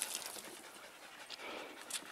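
Dogs pant rapidly and continuously during a water break on a desert hiking trail in Catalina State Park, close and steady throughout with light outdoor background noise.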